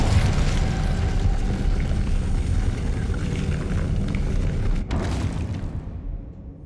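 Incendio fire spell cast in Hogwarts Legacy, a loud, deep rumbling whoosh of flame that roars continuously, with a sharp crackle near the end before it fades out.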